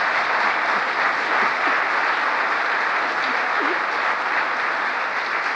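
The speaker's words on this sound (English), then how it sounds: "I think that's an applause line." Audience applause during President Biden's speech on the Inflation Reduction Act: a sustained, even roar of many hands clapping at full strength from start to finish, with no talking over it.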